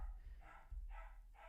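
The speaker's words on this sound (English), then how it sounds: "sorry for the dog in the back" A dog barks in the background, three short bursts of two or three yaps each, fairly distant and muffled under a low room rumble.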